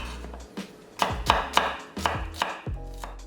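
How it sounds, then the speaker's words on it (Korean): Half an onion is cut into thick strips with a kitchen knife on a cutting board, about seven crisp, close chops in an uneven rhythm, alone and quiet. "양파 반 개는 살짝 굵게 채 썰어"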